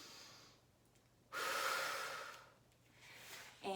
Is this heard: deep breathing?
yes